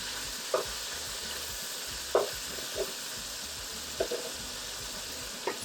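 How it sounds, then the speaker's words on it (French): Carrot, onion and peppers sizzle steadily in a pot while a spoon stirs them, giving occasional scraping clinks over the constant frying hiss, close and even throughout. "mettre tous vos légumes dans la marmite et attendre peut-être 2 minutes pour les remuer"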